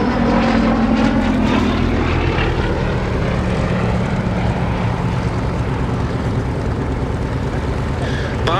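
A Gloster Gladiator biplane fighter flies past at the Duxford Battle of Britain airshow, its propeller engine a continuous droning roar that holds steady and loud with a slight pitch drop early on.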